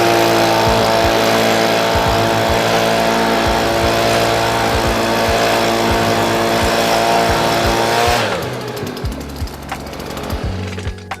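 A loud small engine drones steadily at high revs with rhythmic knocking, then drops sharply to a rougher, sputtering idle near the end.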